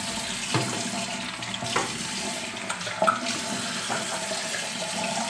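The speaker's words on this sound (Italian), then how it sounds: "faccio scorrere l'acqua calda, così mi lavo la faccia." Hot water runs steadily from a bathroom tap into a sink during a wet shave, a continuous near splashing rush with a few brief knocks and clinks over it, no voices.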